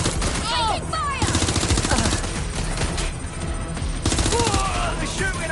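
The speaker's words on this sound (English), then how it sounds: "They're shooting at us!" Rapid automatic gunfire from the video game Watch Dogs Legion, a dense, loud, continuous fusillade of shots overlapping with game music, sweeping effects and shouted voices throughout.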